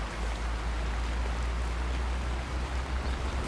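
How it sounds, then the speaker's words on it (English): Heavy rain pouring down outdoors, a steady dense hiss with a low rumble underneath, continuous and fairly loud with no voices. "Pissing down rain."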